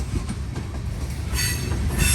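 A freight train with a DPU locomotive rolls past close by, a loud steady rumble of wheels with rising high squeals toward the end.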